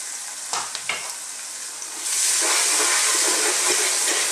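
Onion fries in a pan with salt, black pepper and chopped garlic, first with a few faint scraping stirs, then a loud, continuous close hiss of sizzling that swells midway and holds to the end.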